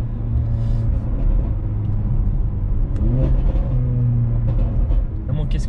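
Mercedes A45 AMG revving hard while driving, a close loud engine roar with rising and falling pitch sweeps and crackles, someone talking over it.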